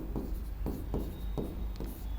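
Chalk writing on a classroom board: a string of short scratchy strokes in an uneven rhythm, near and moderately loud over a steady background hum, with no voice.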